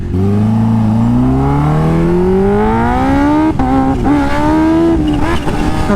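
A Kawasaki H2 motorcycle with a Vandemon titanium exhaust and a flashed ECU pulls hard through the gears, its engine note climbing steadily, then shifting and rising again, loud and close throughout with no talking.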